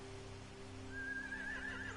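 A horse whinnies once in The Walking Dead video game, a rising, wavering neigh over a steady low hum, with no talk.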